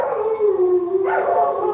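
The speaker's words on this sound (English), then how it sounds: "Enjoy some howling for a minute." Dogs howl in a long, wavering, mournful tone that rises near the end, steady and moderately close with no talking.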